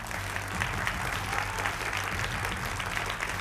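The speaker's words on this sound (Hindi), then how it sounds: "तालियां तो बजा दीजिए आप लोग।" Studio audience applause on a televised political debate show, steady continuous clapping at moderate level throughout, with no one speaking over it.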